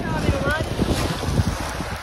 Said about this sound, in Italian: il vento tira da là